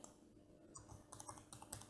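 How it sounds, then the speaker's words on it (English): Typing on a computer keyboard while entering a project name in editing software: a quick, irregular run of light key clicks, close and fairly soft, growing busier toward the end, with no voices. "in the tool selection screen, you can start typing in the name of your project"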